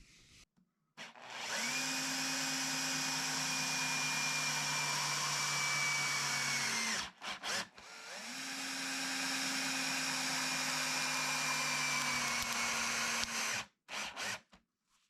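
A power drill drives fasteners to attach wooden shelves to a rolling plant stand built from 2x6 boards. There are two long, steady motor runs of several seconds each with brief pauses between them, fairly quiet and without talk.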